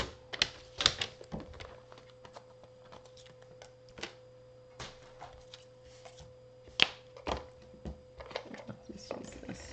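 Cardstock strip cut to size for a faux wrapped greeting card, with scattered sharp snips and clicks of a paper trimmer over a steady low hum, close by and sparse, no speech.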